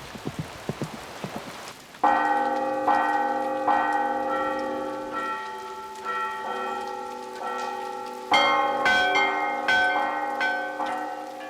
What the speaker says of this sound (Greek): οι καμπάνες, μικρές και μεγάλες, μέσα από τις δοκιμές επιβεβαιώνουν την ετοιμότητά τους